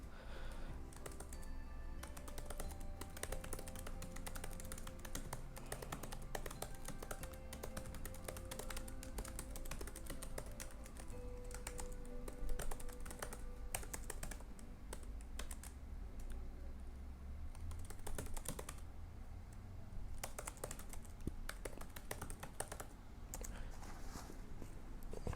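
Close computer keyboard typing runs continuously with rapid, uneven clicks and occasional louder key strikes at a soft, steady level, with no talking.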